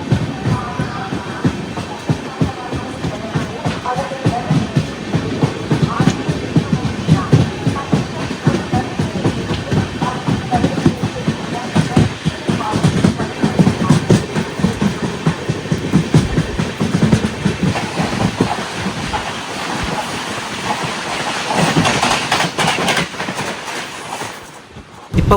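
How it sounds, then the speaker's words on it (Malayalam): The Chennai Egmore–Madurai Tejas Express, hauled by a WAP4 electric locomotive, rushes past at close range with a loud, continuous rumble and rapid clattering of wheels over rail joints for about 25 seconds before it cuts off. "ഇപ്പോൾ പോയത് നമ്മുടെ സദേൺ റെയിൽവേയുടെ ഏക തേജസ് എക്സ്പ്രസ് ആയ ചെന്നൈ എഗ്മോർ മധുരൈ തേജസ് ആണ്"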